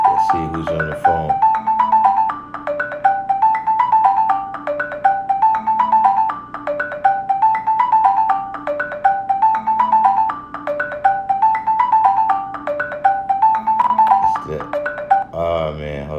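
Phone ringing with a repeating melodic ringtone, a looping tune of bright chiming notes that cycles steadily for several seconds, loud and close, then cut off.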